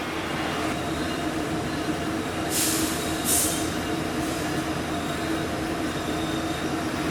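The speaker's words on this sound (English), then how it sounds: "Alright, now we're on the train." A train rumbles along steadily from inside a carriage leaving LA Union Station, with a constant low drone and a couple of brief high squeals from the wheels.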